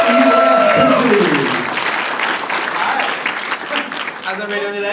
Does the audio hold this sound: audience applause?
yes